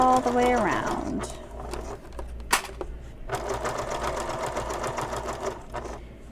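A sewing machine runs steadily with a lengthened stitch around the edge of a bag's binding, a continuous close mechanical whir with rapid stitching rhythm and a brief pause, under a voice.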